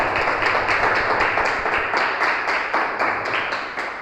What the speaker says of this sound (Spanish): vamos a aplaudir al Señor y vamos a darle gracias